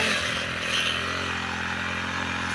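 A grass cutter tearing through thick, overgrown weeds on a provincial farm plot, a continuous loud buzzing engine whine held steady and close throughout.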